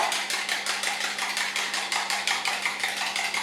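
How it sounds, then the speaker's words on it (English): A mini whisk beats a roti dough mixture in a bowl, giving a fast, even rhythm of light clicking strokes, close by, with a faint steady hum behind and no talking. "just give this a good whisk with a mini whisker"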